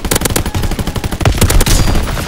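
A GPMG machine gun fires long, rapid, loud bursts in a Call of Duty WW2 Winter Siege match, the rattling shots dense and continuous with no talk over them.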